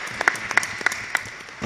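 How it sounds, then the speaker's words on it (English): At a city council work session, a few scattered claps sound at a steady pace in a large room, sparse and brief rather than a full round of applause. "I think that's a round of applause."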